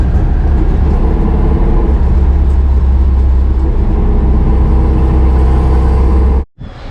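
Electric Chevy C10 pickup truck with a Tesla drive swap and a Quaife limited-slip differential, rolling out on the road: a steady, loud low rumble of road and drivetrain noise that holds constant, then cuts off abruptly near the end.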